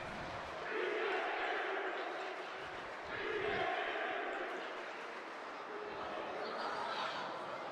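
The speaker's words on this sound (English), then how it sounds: "A "Let's Go Bulls" chant from the crowd over to our left." A hockey crowd chants "Let's Go Bulls" in rhythmic swells during a high school varsity playoff final, with the rising and falling chant heard at a distance in a large arena.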